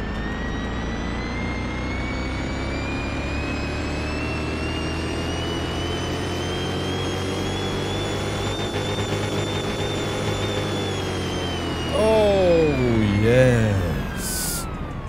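A 1000-horsepower concept car engine in Car Mechanic Simulator 2021 revs with a rising, whining, spaceship-like tone that climbs steadily and holds, with a brief burst of speech near the end.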